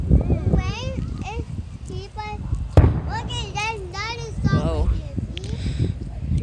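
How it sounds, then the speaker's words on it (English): Crackling Fourth of July fireworks bursts pop now and then over close, excited children's voices talking throughout. "You gotta let those fireworks off with a bang!"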